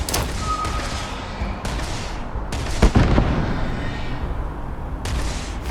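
Gunfire in the Starfield video game, heavy booming shots and thuds in a dense battle mix, with one louder blast partway through over continuous rumbling background.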